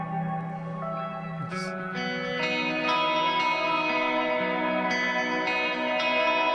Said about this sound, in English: I love how reverby and distant that guitar is.